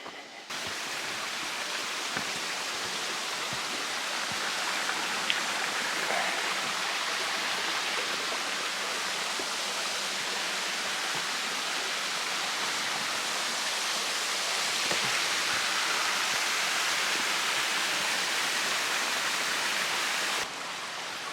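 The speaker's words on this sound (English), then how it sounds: "I just love how the trail is like following this brook all the way uphill." A mountain brook flowing beside a hiking trail on the Appalachian Trail near Kinsman: a steady, even rush of running water, close and continuous, with no voices.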